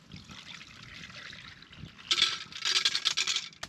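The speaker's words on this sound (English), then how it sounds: "turn this on and you'll see here, you'll watch this cup fill up with fuel" Liquid fuel trickling into the priming cup of a camping stove at a snowy 11,000-foot winter campsite, a quiet hissing dribble that turns louder and more spattering partway through, close up with no talking.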